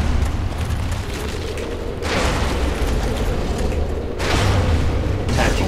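An explosion in the Dark Souls video game, set in the New Londo Ruins, comes as a loud, sustained rumbling roar with two sharp surges, mixed with steady mechanical game noise and no talk.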